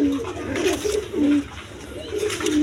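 Pigeons from a racing pair sold as running birds coo close by in repeated low, rolling phrases, with faint background noise between calls.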